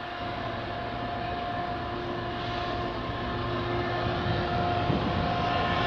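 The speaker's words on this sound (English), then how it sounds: "Okay, we got a CN train coming" A CN freight train with diesel locomotive 3188 approaches in the Greater Toronto Area, producing a sustained low engine drone with a steady tonal hum that grows gradually louder, with no talk over it.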